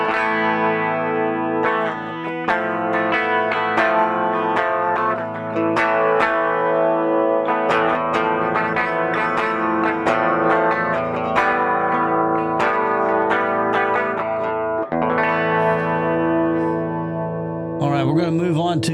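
An electric guitar played through an MXR Rockman X100 pedal with distortion rings out in sustained, compressed chords and picked notes, with a chorus-like shimmer and a few brief gaps.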